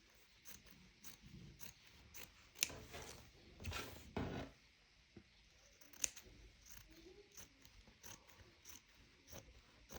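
Scissors cut lining fabric for a knitted bag in a series of soft, close snips and crunching slices, irregular and quiet, with a few sharper clicks of the blades.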